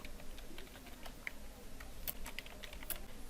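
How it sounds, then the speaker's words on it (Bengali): Someone typing on a computer keyboard while filling in a biodata form in MS Word, soft irregular key clicks with a few sharper taps, quiet and close, no speech. "এন্টার দিয়ে নিচে আসব, লিখে দিব ম্যারিটাল স্ট্যাটাস"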